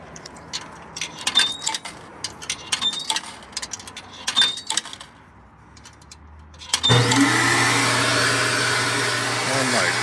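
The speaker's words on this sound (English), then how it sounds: "let's test out this vacuum. See how much it sucks" A coin-operated Super Vac vacuum at a self-serve car wash starts up and runs as a loud, steady roar after several seconds of scattered clattering and handling noises.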